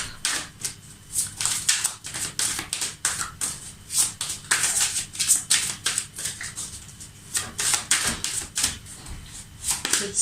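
Tarot cards are shuffled up close, a quick series of papery riffles and slaps in uneven bursts, fairly loud against a quiet background, with no speech.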